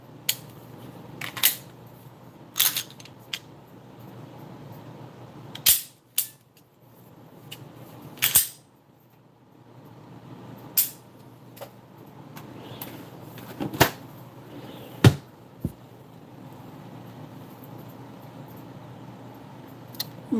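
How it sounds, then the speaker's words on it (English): Clicks, snaps and metallic clacks from a Ruger SR9 pistol being handled and worked, scattered at irregular intervals over a quiet room background, fairly close, with no one speaking. "I'm messing around with a Ruger SR9 in the background"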